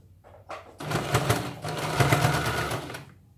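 A sewing machine starts with a few slow clicks, then runs a short straight seam along a folded 1.5-inch strip at the armhole of a princess-cut blouse, loud and close, before stopping.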